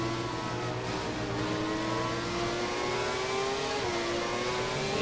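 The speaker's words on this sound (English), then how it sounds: "Ferrari 412 T2 just overtook a Renault R26." Ferrari 412 T2 racing car engine in the F1 2017 video game, a steady high whine holding pitch as it overtakes a Renault R26, loud and continuous with no talk.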